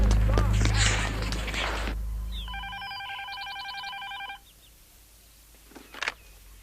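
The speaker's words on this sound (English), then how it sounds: "Get the boy's father on the phone." Telephone dialing with a quick series of electronic tone beeps after a noisy opening of rumbling and clatter, followed by quiet and a brief ring.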